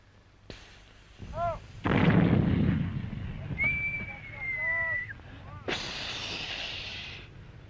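Cartoon pirate cannon firing in a 1950s animated pirate story: two booming shots with crackling blasts, mixed with whistling, swooping effects, and bursts of noise, fairly loud throughout with no talk.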